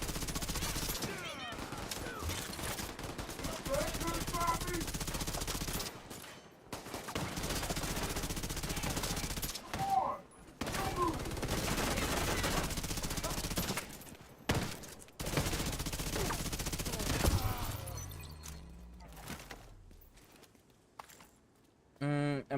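Sustained bursts of fully automatic submachine gunfire in The Division 2, dense rattling volleys with brief gaps, loud and close, mixed with game action and effects.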